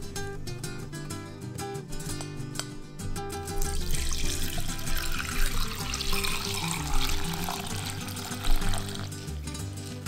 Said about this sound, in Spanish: Revolvemos el arroz con las manos limpias y ya nada más lo enjuagamos con agua fría.